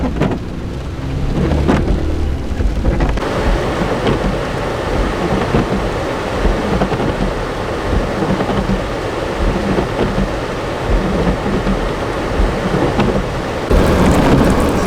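Pouring rain outdoors, a loud, dense, continuous hiss and patter with deep rumbling underneath, steady throughout with no talk.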